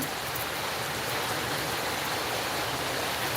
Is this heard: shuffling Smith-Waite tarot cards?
no